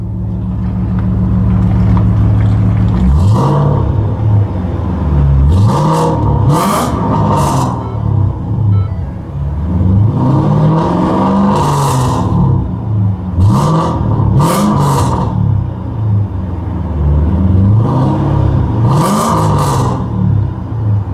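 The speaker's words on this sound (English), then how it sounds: "It's an awesome exhaust note." A 2010 Ford Mustang GT with a 4.6 V8 and five-speed revs repeatedly, its loud, close exhaust note swelling and falling in several throttle blips over a steady idle rumble.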